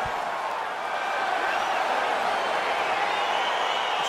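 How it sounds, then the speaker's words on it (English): A UFC arena crowd in EA Sports UFC 4 cheers steadily as a fight begins, a broad, sustained roar of voices with no distinct peaks. "crowd getting excited as this fight gets underway"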